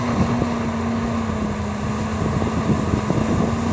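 The six-cylinder Volvo engine of an EC210B LC excavator idles with a steady, even low rumble, heard alone under faint wind noise.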